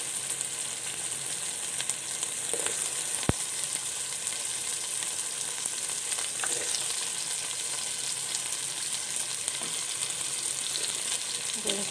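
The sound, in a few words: potatoes and tomato frying in a pan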